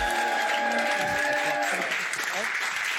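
An audience applauds Mado la Niçoise on stage with dense, steady clapping that fills the whole moment, while a voice and music sound over it.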